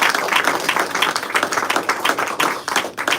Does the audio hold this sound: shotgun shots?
no